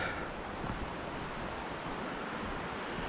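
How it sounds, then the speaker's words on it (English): A river on a forest trail near Mt Rainier's Longmire area rushes steadily, a broad continuous roar at constant loudness with no voices over it. "We get to listen to the river."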